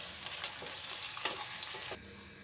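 Chopped onion and green chillies frying in hot oil in a pan, a soft continuous sizzle with faint crackles, heard alone and fairly quiet.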